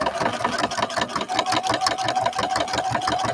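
A sewing machine stitching fabric runs in a fast, steady rhythm of closely spaced needle strokes, close and fairly loud, with no talking.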